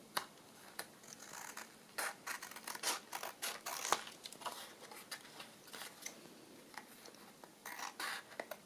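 Scissors snipping and trimming paper for a vintage travel journal, a quiet, irregular run of close, crisp cuts and rustles with short pauses between strokes.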